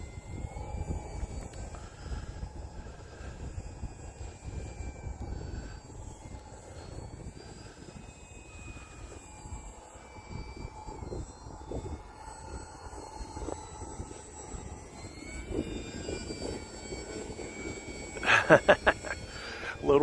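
A Tundra RC airplane flying in to land in snowy, windy conditions, its electric motor a steady whining drone with shifting pitch under wind rumble, a few sharp clicks near the end.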